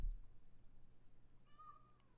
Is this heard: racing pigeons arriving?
no